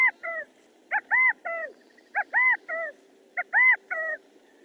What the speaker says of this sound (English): I don't know if many of you are familiar with the call of the quail